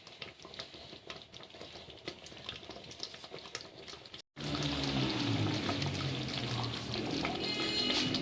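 Water pours into a pot of simmering potato and chicken curry, a sudden loud, steady rush of splashing liquid that starts about halfway through after quieter bubbling and sizzling.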